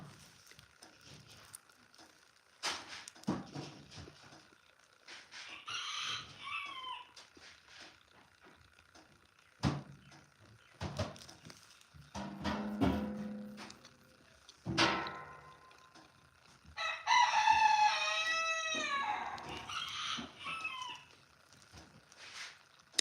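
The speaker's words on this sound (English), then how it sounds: "And when one rooster crows, they all want to crow." Several roosters on a ranch crow one after another, long strained calls rising out of a quiet yard with scattered knocks and other barnyard noises between them.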